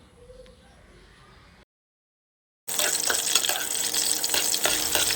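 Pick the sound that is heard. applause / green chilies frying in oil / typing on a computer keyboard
green chilies frying in oil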